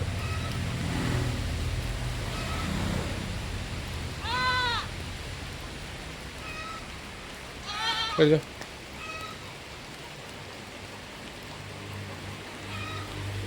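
Young crossbreed goats bleat a few times, short wavering cries spaced apart over a steady background of light rain and distant traffic; a voice talks briefly.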